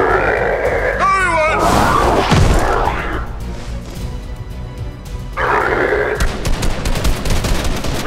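Gunfire bursts in a Fortnite short film, a loud rapid volley early on that returns after a quieter stretch, mixed with shouting voices.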